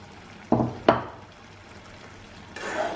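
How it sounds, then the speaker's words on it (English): Chopped garlic dropped into a pan of smoked pork with eggplant, two sharp splashy hits of sizzle that fade quickly, then a softer, rising hiss of frying near the end. "so I'm adding this garlic"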